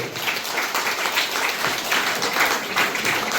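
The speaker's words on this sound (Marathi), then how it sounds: "त्यामुळे जोरदार टाळ्या झाल्या पाहिजे." Applause at an annual magazine launch ceremony, a steady wash of many hands clapping at moderate loudness, continuous throughout.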